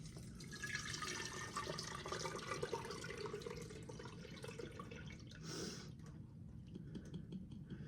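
Fermented pineapple tepache pours through a cheesecloth-lined strainer, a faint continuous trickle and splash of liquid held steady for several seconds, quiet and close with no talk.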